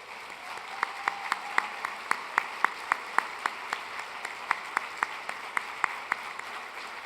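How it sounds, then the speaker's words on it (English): Applause from a gala audience, a light steady patter of clapping with a few sharper individual claps standing out at a fairly even rhythm, moderately distant and continuous throughout. "Please join me in giving Julie a round of applause."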